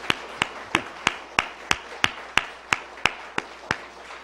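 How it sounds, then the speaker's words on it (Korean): Church congregation at an evening service clapping in unison: about thirteen sharp, evenly spaced claps in a steady rhythm, moderately loud, with no talk over them. "한번 박수하겠습니다."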